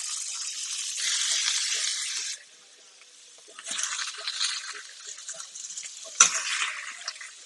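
Water hisses and splashes in a home kitchen while garlic shrimp scampi is made, running in bursts: a steady stream, a pause, then uneven splashing and a sharp clink, close and fairly soft.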